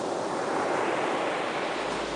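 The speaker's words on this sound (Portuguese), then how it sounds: "ao inconfundível som das ondas do mar." Ocean waves wash in a steady, even roar of surf that stays at the same level throughout, with no voices.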